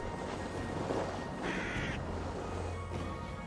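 A crow gives a single short, harsh caw in the video game Assassin's Creed Valhalla, heard over a steady, noisy game ambience with a low hum.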